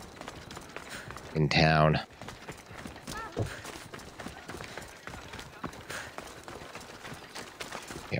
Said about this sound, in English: I think I could run faster than my horse is allowed to gallop